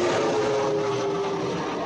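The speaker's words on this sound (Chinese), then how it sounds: "总统府上空随后飞过两台陆军国旗机，还有三台空军 AJT 型永鹰高级教练机" Military aircraft pass over the Presidential Office during a National Day rehearsal flypast: two army flag-carrying aircraft and three air force AJT advanced jet trainers. A continuous, loud jet roar holds steady throughout with no talk.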